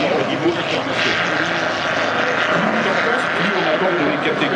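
Large aerobatic model airplane with a 120 cc engine flying at a 2014 aerobatics competition meet in Mâcon, its engine droning loud and steady throughout with a voice heard over it.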